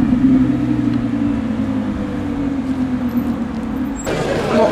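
A Porsche 911 GT3 RS sports car rumbles steadily nearby at the Zoute Grand Prix, its low engine drone holding throughout with a brief shift in tone near the end.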